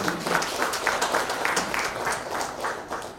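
An audience at a Guru Puja celebration for a Nataraja dance school in Hyderabad applauds. The clapping is lively and dense, with individual claps standing out in a continuous, rippling burst.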